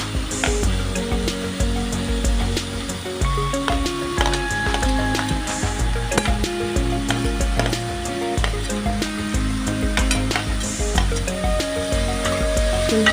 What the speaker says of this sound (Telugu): బాగా వేయించుకోవాలి కొద్దిగా ఒక రెండు నిమిషాలు